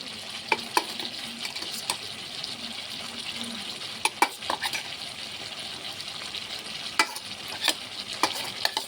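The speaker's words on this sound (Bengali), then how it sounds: "এখন পেঁয়াজগুলি দিয়ে দেব।" Onions going into hot oil for a chicken fry, with a steady sizzle and frying hiss and repeated sharp clinks and scrapes of a stirring spoon against the pan, close and continuous with no talk.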